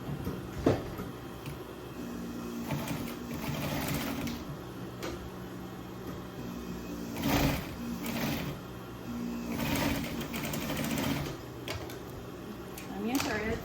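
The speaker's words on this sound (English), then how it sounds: "So that way, we'll just start sewing them together." A sewing machine stitches Christmas stockings together, running in a steady, moderately quiet mechanical whir with brief pauses and bursts, close by, while a person talks softly over it.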